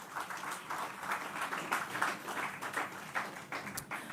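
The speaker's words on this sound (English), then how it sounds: "Please give that a round of applause." Audience applause breaks out at a ribbon cutting ceremony opening a special education learning facility, a steady wash of many hands clapping at moderate volume with no speech over it.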